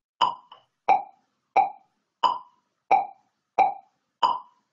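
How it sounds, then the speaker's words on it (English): A metronome beats steadily in 3/4 time, seven evenly spaced, crisp woody clicks with identical loudness, heard alone and close against total silence. "That's our metronome"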